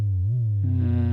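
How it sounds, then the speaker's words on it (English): A Roland JD-800 synthesizer plays a plain sine wave tone, a smooth low hum that bends in pitch and then steadies, close and alone. "A sine wave."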